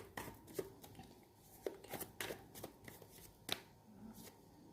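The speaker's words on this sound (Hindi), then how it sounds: "अभी और कार्ड निकालेंगे कि क्या आ रहा है आपकी लाइफ में" Tarot cards being shuffled and drawn by hand, a run of crisp riffling slaps and flicks at close range with brief pauses between, no talk over them.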